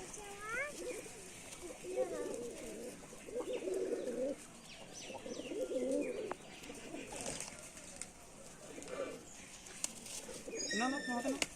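Rajshahi Giribaz pigeons coo repeatedly in low, rolling bursts close by, with occasional chirps and brief wing flaps toward the end.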